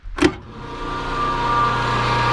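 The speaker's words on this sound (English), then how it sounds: "electric motor here, which is actually running off of our hydroelectric plant," Electric motor at a sawmill, powered by a creek-fed hydroelectric plant, starting up a hydraulic pump: a brief thump, then a steady rising mechanical hum that settles into a continuous loud drone with a faint whine on top.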